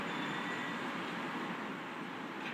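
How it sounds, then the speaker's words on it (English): A subway train runs in the city-building game Cities in Motion 2, a steady broadband rumble and rush of rail noise filling the clip at an even level without pauses. "You can only do subway trains."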